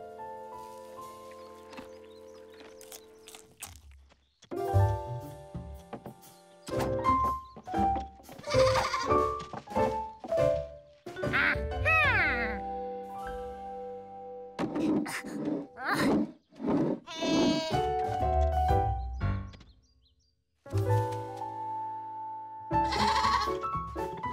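Several cartoon goats on a farm bleat repeatedly, loud and close, their wavering cries overlapping and alternating with short quiet gaps.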